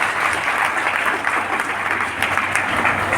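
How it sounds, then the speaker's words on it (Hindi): An audience at a health awareness program bursts into sustained, dense clapping, loud and continuous throughout with no talk over it. "एक बार बढ़िया ताली बजा दो भाई अभी"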